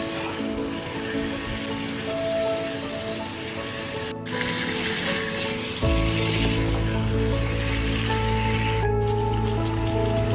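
Chicken pieces dropped into a hot kadai of well-fried spice paste released from its oil, a steady loud sizzle that swells sharply partway through and continues strongly to the end.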